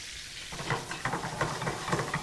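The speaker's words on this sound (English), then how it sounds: "I love that sizzle." Soft, steady sizzling of salted food frying in a pan, a quiet hiss with faint crackles and no voices.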